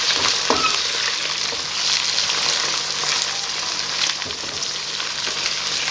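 Chicken frying in a pot for biryani gives a continuous loud sizzle with bright crackling and occasional stirring scrapes, close by and without voices.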